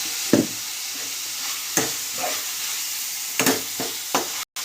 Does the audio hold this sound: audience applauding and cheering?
no